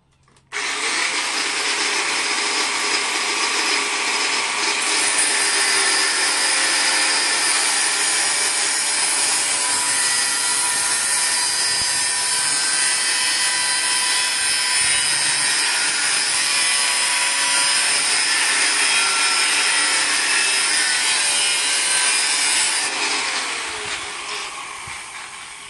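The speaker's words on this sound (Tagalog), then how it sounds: "Yung tubo, guys, putulin" Metal pipe being cut with a power cutter during a welding project, producing a loud, continuous abrasive whine and grinding that runs steadily for the whole stretch before tapering off at the end.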